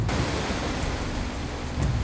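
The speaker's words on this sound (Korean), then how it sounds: "파도가 쉬 가라앉지 않고 있다." A steady, heavy roar of high sea waves and surf around a shrimp fishing boat, loud and continuous with no voices.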